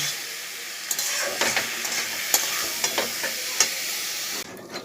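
Vegetables sizzle loudly in a pan with turmeric and pepper powder for a vegetable egg curry, a bright steady frying hiss broken by repeated scraping stirs, close up, cutting off abruptly near the end.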